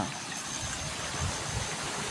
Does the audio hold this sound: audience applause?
no